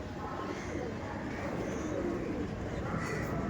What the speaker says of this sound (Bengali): ভেতরে ভীষণ ডাক দিচ্ছে